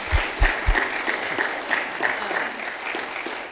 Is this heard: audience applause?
yes